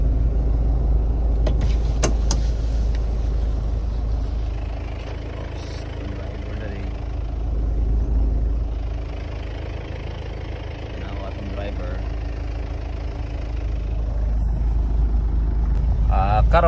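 Isuzu Crosswind engine in first gear during a driving lesson: a steady low idle-like rumble fills the whole clip at moderate loudness, swelling gently a few times, with people talking quietly over it.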